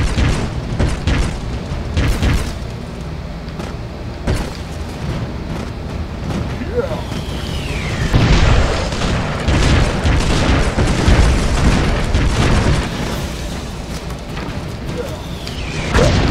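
Airstrike explosions in the Broforce video game, repeated deep booms and thuds bursting through a busy mix, some stacked close together, with a voice talking over them.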